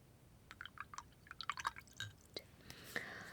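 Paintbrushes dropped into a water jar during a quiet art session: soft drips, light clinks and small splashes come in a loose cluster, close and faint against a hushed room.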